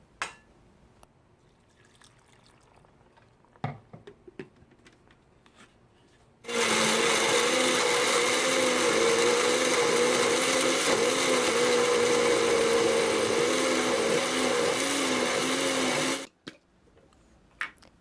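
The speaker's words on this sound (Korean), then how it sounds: "여기에다가 육수를 좀 붓고 예, 갈아줍니다" A blender grinds ginger, salted shrimp and broth into a kimchi seasoning paste, a loud steady whirring that runs about ten seconds and then cuts off, with quiet kitchen knocks before and after.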